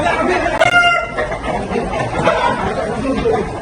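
Roosters crow and cluck amid a noisy crowd at an illegal cockfighting gambling site in a village in Grobogan, Central Java, with one clear crow near the start and further calls over steady chatter.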